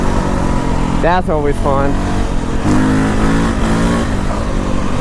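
A KTM 525 dual sport motorcycle revs in high gear as the rider rocks it up, a steady loud engine drone running throughout, with someone talking over it partway.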